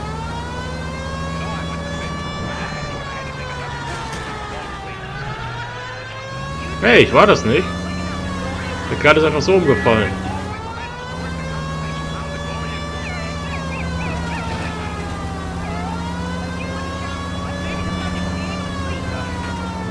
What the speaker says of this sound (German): Okay, ich mach die Sirene an, dann können die wenigstens aus dem Weg.